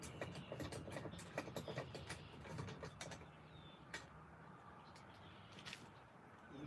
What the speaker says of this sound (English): I have the Husky screwdriver. It's actually got a ratchet, kind of like a socket adjustment to it.